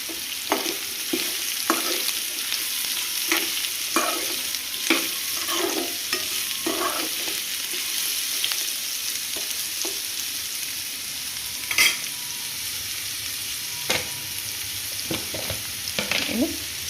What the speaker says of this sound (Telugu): ఆనియన్ మంచిగా ఫ్రై అయింది కదా, ఇప్పుడు పసుపు వేసేసుకుందాం.